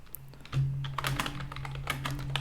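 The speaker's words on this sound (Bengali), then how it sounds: "আমরা এই চ্যাটের এখানে লিখব" Keys clatter on a computer keyboard as a prompt is typed into an AI chat window, a quick irregular run of close clicks over a low steady hum.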